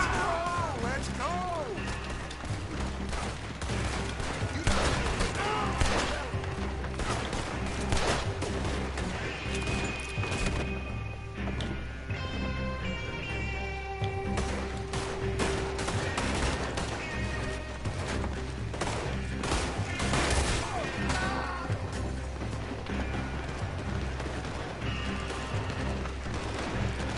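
Gunfire in the video game Red Dead Redemption 2, repeated shots and crashes mixed with a dense battle soundtrack, with game characters talking over the steady din.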